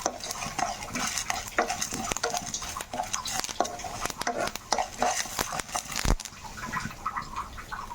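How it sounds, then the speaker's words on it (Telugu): Coriander seeds and curry leaves are dry-roasted in a pan and stirred constantly with a metal spoon. The spoon gives a steady scraping rattle with soft sizzling beneath it, and a voice talks faintly over the cooking. "చక్కగా ఇవి దోరగా వేయించుకోవాలి."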